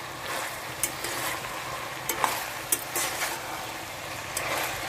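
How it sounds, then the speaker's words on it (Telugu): Ivy gourd (dondakaya) pieces fry in oil in a pan with a soft, steady sizzle and a few faint clicks of stirring, quiet and without speech. "వేగుతున్నాయండి, ఇంకా కాసేపు వేగాలి"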